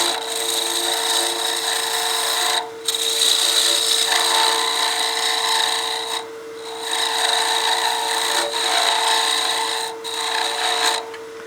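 Wood lathe gouge cutting a small bat house ornament blank with delicate cuts, a steady bright rasping hiss broken by short pauses between passes, close and loud with no talk.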